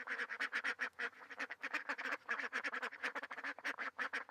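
A flock of ducks in the bird section of Kothwalguda Eco Park in Hyderabad quacks steadily and rapidly, one call overlapping the next in a close, continuous chorus with no talking.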